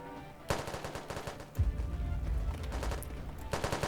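Automatic turret gunfire in the Roblox game SCP site roleplay, rapid machine-gun bursts starting suddenly, then a heavy low rumble and continued fire, loud and close, with a fresh burst near the end.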